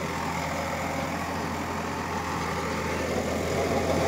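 A Swaraj 744 XT 4WD tractor pulling a rotavator through a farm field holds a steady, heavy diesel drone with a constant low rumble and no break in its rhythm.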